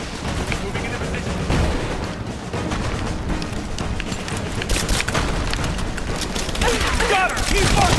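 Heavy exchanges of gunfire in Rise of the Tomb Raider, dense rattling bursts and booming shots crackling continuously, loud and close, with voices calling out over the firefight.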